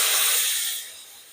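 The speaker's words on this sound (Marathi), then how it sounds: "गरम पाणी टाकू" Hot water poured into sizzling curry masala for a Maharashtrian shev bhaji, a loud steady steam hiss that gradually fades as the pan quiets, with no talking.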